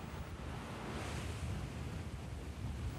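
Force-10 gale wind roars steadily at sea on a rolling ship's deck, mixed with the continuous wash and crash of waves, loud and close with broadband buffeting noise and no voices.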